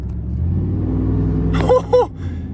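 A car fitted with a Windbooster throttle controller in race mode gives a low, rumbling engine note that builds as the throttle is barely tapped, followed by two short tonal blips near the end.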